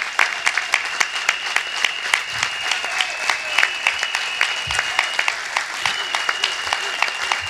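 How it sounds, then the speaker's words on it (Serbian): A crowd at a political gathering applauds three members of parliament, with sustained, dense clapping that holds steady throughout. "jedan veliki aplauz za tri poslanika"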